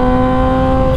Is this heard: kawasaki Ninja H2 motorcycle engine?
yes